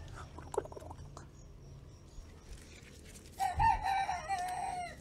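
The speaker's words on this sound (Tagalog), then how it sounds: "Bigyan natin sa mga manok." Chickens cluck softly nearby, then a rooster crows loudly partway through, with other birds chirping faintly in the background.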